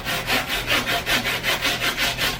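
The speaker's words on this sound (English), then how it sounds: "So you can cut them with a handsaw" A handsaw cuts through fiberglass rebar in steady back-and-forth strokes, about ten rasping passes in a regular rhythm, close and fairly loud with no talking.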